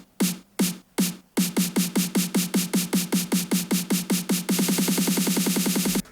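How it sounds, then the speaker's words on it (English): A basic snare roll programmed in FL Studio opens with three separate hits, then speeds into evenly spaced strikes that tighten into a dense buzzing roll at the end, clean and alone. "I just made a quick snare roll, very basic, just to show you."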